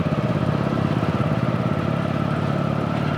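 Motorcycle being ridden, its engine running in a steady, loud, close rumble with a fast, even pulsing throughout and no voices.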